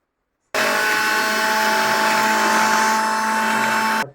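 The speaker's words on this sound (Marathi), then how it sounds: "आता आपण हे लसूण आणि कोथिंबीर मिक्सरला वाटून घेऊयात." A mixer grinder grinding garlic and coriander starts abruptly and runs at a loud, even whine for a few seconds before stopping.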